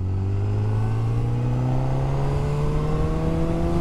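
A 2022 Honda CB1000R Black Edition pulls hard in fourth gear from low revs, its engine note climbing smoothly and steadily while heard up close and loud, with wind rush over the rider and no talking.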